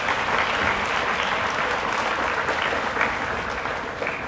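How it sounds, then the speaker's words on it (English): An audience at a high school moving-up ceremony claps in sustained, dense applause. The sound is even and moderately loud, with many hands blending into a steady wash, and it fades slightly toward the end. "Let us give them a big round of applause."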